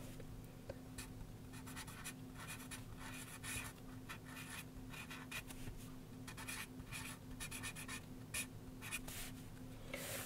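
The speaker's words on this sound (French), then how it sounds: "Je peux écrire des phrases. Je peux écrire juste des mots." A pen writing words on paper in a visual wellness journal, continuous soft scratching strokes in short irregular bursts, close and quiet over a low steady hum.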